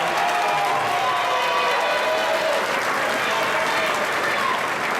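An audience claps steadily in sustained applause at a fifth grade promotion ceremony, dense and fairly loud throughout with crowd murmur mixed in.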